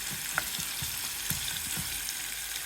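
Beans frying in a tempering of oil and spices in a pan, a soft, steady sizzle with scattered small pops and crackles, heard quietly and alone.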